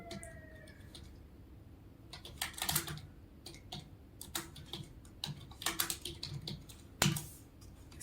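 Fingers typing on a computer keyboard, close and fairly quiet, with irregular bursts of clicking keystrokes separated by short pauses and no talking.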